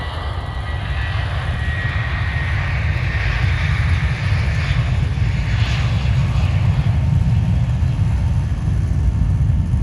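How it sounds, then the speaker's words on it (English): A steady, loud aircraft engine roar as an aeroplane takes off, a continuous broad rumble that holds and swells slightly without pause. "Oh, look, see, here comes the aeroplane."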